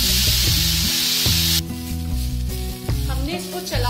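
Cauliflower fries in oil in a kadhai over a medium gas flame, a loud hissing sizzle that drops away suddenly partway through, leaving a lower bubbling fry under a speaking voice.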